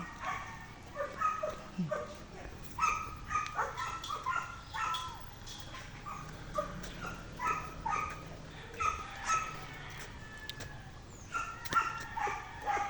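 Several dogs bark and yip in scattered bursts from a dog pen at a moderate distance on a farm, overlapping irregularly against a steady outdoor background.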